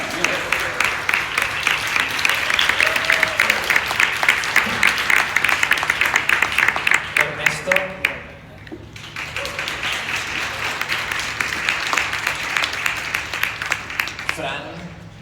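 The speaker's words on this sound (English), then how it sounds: "please give a big applause to Miki" Audience at a Eurovision 2019 press conference for Miki after his first rehearsal breaks into loud, sustained applause, dipping briefly midway before a second burst of clapping swells again.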